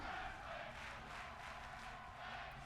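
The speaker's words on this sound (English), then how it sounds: "Crowd loving this matchup" A crowd at a tag team wrestling match roars and chants steadily, a dense, sustained wash of voices heard from a distance at moderate volume.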